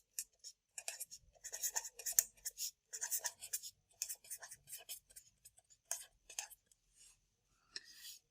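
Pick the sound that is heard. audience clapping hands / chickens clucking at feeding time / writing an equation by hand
writing an equation by hand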